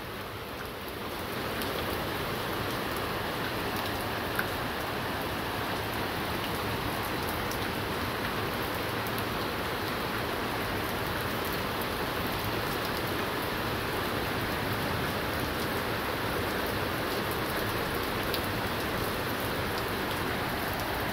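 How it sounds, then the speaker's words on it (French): Heavy rain pours steadily and densely throughout a violent thunderstorm, a continuous loud hiss of drops with no gaps or other sounds. "Une bonne pluie, hein."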